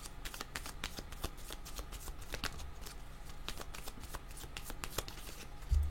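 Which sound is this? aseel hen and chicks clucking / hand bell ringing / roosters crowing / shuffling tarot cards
shuffling tarot cards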